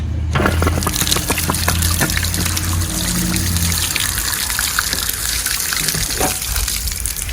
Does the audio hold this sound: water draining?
yes